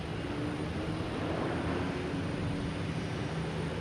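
A large Delta jet airliner bound for Heathrow rumbles steadily at an airport, a broad continuous roar holding constant loudness throughout without voices.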